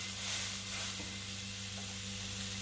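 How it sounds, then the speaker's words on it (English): Filet mignon steak sizzles on a hot grill pan over medium-high heat, a steady, close, continuous hiss and crackle with no talking. "We're gonna now put the steak on the grill."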